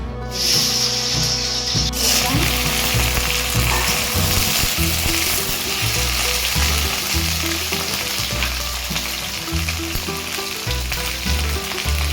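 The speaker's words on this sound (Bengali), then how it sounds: "এবার এই ভেন্ডিটাকে একটু ভেজে নেবো" Loud, steady sizzling of okra frying in hot oil in a kadai, continuous throughout with occasional scraping stirs.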